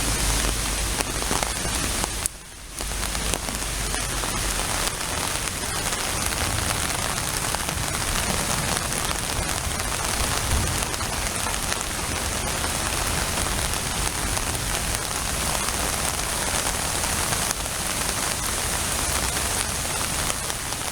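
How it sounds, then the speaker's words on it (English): Steady storm rain pours continuously, a dense hiss of drops striking a sidewalk, with a brief dip in the downpour early on before it resumes unbroken. "it's still fun to walk in the rain"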